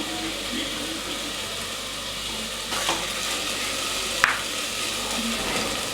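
Green chillies fry in a pan with a steady, close hiss of oil and a brief scrape of stirring now and then.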